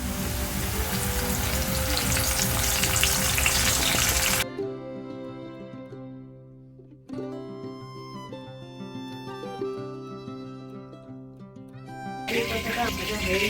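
Curry leaves dropped into hot oil in a wok crackle in a loud sizzling burst for about four seconds, then the frying softens to a low bubbling hiss under background music.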